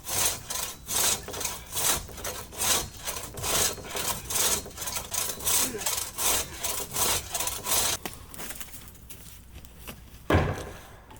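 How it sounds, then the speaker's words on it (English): Hand saw cutting through the ends of scrap wood boards, a steady rhythmic back-and-forth rasp of repeated strokes, close and loud, stopping near the end with a single knock. "Now the tedious part of sawing off the ends."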